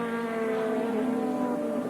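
Touring race cars at Amaroo Park in round 1 of the 1989 Australian Touring Car Championship, including car number 18 of John Bowe, near the start-finish line late in the race, with a steady loud engine drone throughout.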